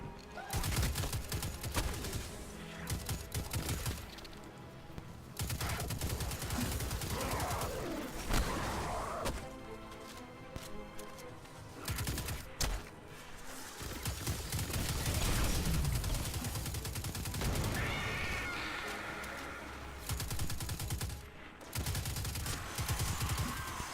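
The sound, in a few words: assault rifle fire in the video game Destiny 2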